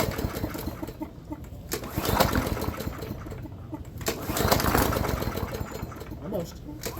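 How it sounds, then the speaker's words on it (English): A Briggs and Stratton 300e 125cc lawnmower engine being pulled over in attempts to start it, with rough bursts of cranking and sputtering that fail to catch. A person talks over it. "So I put gas in it, and I'm gonna try to start it."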